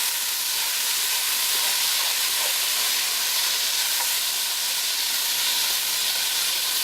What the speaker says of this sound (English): So while we've got a good sizzle going on this,